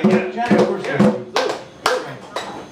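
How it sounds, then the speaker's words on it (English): An audience stomps and claps: a handful of heavy, irregular thumps land over about three seconds, close and punchy, mixed with voices. "Stomping."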